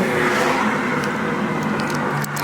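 A 2025 BMW G80 M3 accelerates hard, its engine roaring loud and close in a continuous rush, with a few brief crackles near the end.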